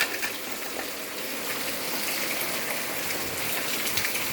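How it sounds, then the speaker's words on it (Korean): Heavy rain patters densely and evenly, mixed with the rushing gush of water draining away, with no voices. "빗소리랑 물 내려가는 거, 물, 빗물 양이 비례하게 비례."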